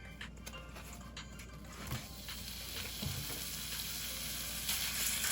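Ground beef sizzling and frying in a little cooking oil in a pan on high heat, a steady faint crackle with occasional scraping stir sounds, no talk.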